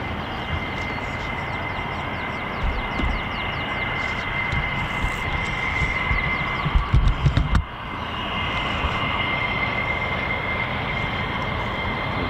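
Polish Air Force F-16 jets with conformal fuel tanks passing during an air exercise, a steady, wide jet roar swelling toward the middle with a sharp rumbling burst before easing back, distant and continuous, no talking.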